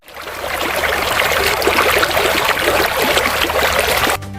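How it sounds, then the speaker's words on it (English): A river flowing gently, a steady close babble and trickle of moving water that holds evenly before cutting off abruptly near the end. "the only sound is the gentle flow of the river"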